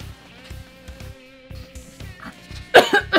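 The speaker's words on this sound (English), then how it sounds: "Let me clear my throat." A person clears their throat and coughs several times, a short burst of harsh rasping coughs close to the mic at the end, following quieter low throat noises.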